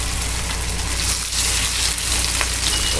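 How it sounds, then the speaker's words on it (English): Loud, continuous sizzling of steaks searing in a hot skillet, a dense crackling hiss with a low hum underneath. "You want to hear that sizzle as soon as you put them in"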